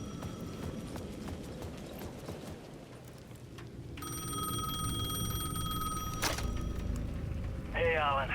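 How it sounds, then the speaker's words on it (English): In the video game Alan Wake 2, a payphone at the edge of a plaza rings with a steady electronic tone, under clopping footstep-like sounds and ambient noise, while a voice speaks over it. "The payphone at the edge of the plaza was ringing again."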